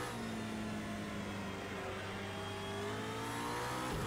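A McLaren P1 GTR race car engine in the video game Project Cars 2 drones steadily, its pitch rising and shifting as it revs, heard as continuous mid-level motor noise without talk.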